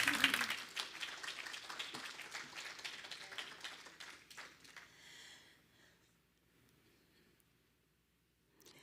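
Applause for Reverend Jean Bell at a Sunday church service, a crowd clapping densely at first, then thinning and fading to near silence over several seconds.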